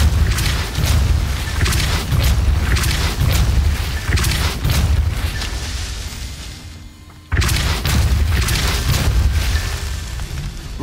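Depulso force-blast spells in Hogwarts Legacy boom loudly in repeated rumbling bursts, each one a heavy thump with a crackling tail. The barrage breaks off briefly into near silence before starting again.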